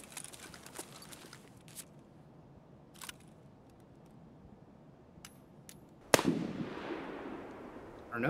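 Distant gunshots from a Scav in Escape from Tarkov, a few faint isolated cracks, then one sharp, louder shot with a long echoing tail that lingers until the end.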